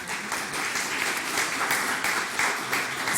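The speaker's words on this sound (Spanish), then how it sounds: "Un aplauso para ellos." Audience applause during a church talk on faith, a steady moderately faint wash of clapping lasting a few seconds.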